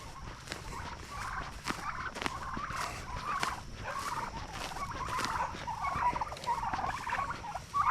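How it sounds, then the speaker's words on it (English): Large backyard garden turkeys gobble and chatter in repeated short bursts, with light pattering and footsteps nearby, fairly faint throughout. "our turkeys are still back here"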